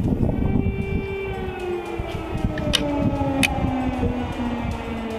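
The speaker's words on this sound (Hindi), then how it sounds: "जरा आप ये एयर सायरन सुनिए, आपको सुनाने की कोशिश करेंगे।" A wailing air raid siren in Lviv rises and slowly falls in pitch, sustained and droning, with faint background noise and a couple of sharp clicks.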